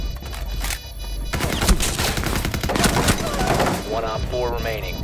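Gunfire in the video game Rainbow Six: loud, dense rapid-fire bursts filling most of the moment, with sharp single cracks at the start and a fading rattle toward the end.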